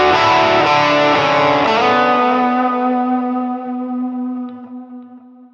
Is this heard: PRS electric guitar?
yes